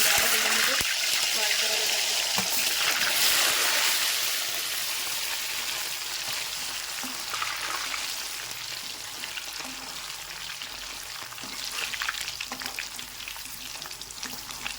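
Potatoes deep-frying in hot oil in a kadhai on a full gas flame, a loud, steady bubbling sizzle that swells at the start and settles into a constant crackle with a faint voice in the background.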